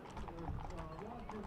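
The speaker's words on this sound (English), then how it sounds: "Those are beautiful horses," Horses of a vaquero group clip-clop along a street in the Pioneer Day Parade in Paso Robles, California, with steady hoofbeats mixed into continuous crowd chatter and talk.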